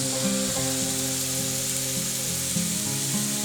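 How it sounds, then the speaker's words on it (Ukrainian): Chopped onion frying in a pan for homemade pizza, a steady broadband sizzle with light stirring scrapes, close and continuous, no voices. "Додаю нарізану цибулю. Перемішуємо та підсмажуємо."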